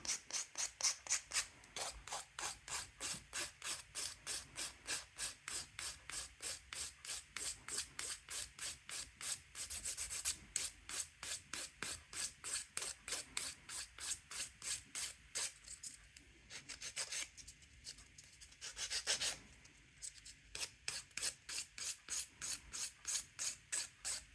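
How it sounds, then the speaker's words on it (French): A fingernail being shaped with a nail file, leveling a thick nail tip, in steady rapid back-and-forth rasping strokes, close and fairly loud, with a few brief pauses and no talking. "C'est pas super dur à limer et c'est pas très long à limer."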